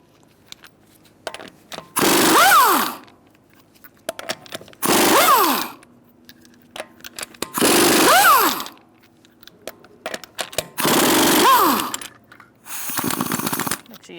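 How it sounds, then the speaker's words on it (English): A power socket wrench with a 19mm socket spins lug nuts off a 2000-2007 Ford Taurus wheel, making five loud, even bursts of whirring rattle with brief quiet gaps between them. "Using a 19mm socket, we'll take off our lug nuts."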